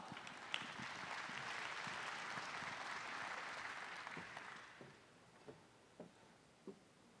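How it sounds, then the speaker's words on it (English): Applause from a conference audience at a West Slope water summit, broad clapping that holds steady for about five seconds, then fades to a few scattered, distinct claps. "Give yourselves a round of applause."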